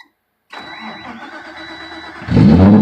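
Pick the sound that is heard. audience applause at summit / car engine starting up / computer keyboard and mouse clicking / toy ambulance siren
car engine starting up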